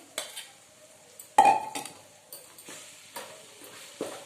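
Ingredients frying in oil in a home kitchen, with scattered sizzling crackles and the scrape and clink of a utensil stirring in a pan, close and moderately loud.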